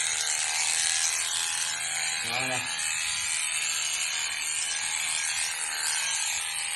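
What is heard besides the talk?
Liveryman Black Beauty horse clipper clipping hair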